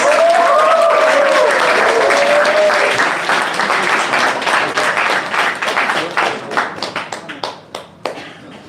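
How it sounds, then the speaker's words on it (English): A crowd at a startup hackathon final event applauds the team called on stage. Loud, sustained clapping with a few whoops at first gradually thins into scattered individual claps before fading out. "And let's give the applause."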